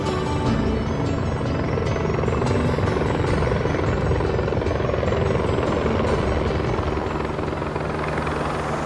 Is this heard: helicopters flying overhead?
yes